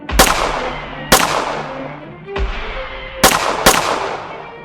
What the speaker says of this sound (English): As your bullets can't hurt me, you may as well stop shooting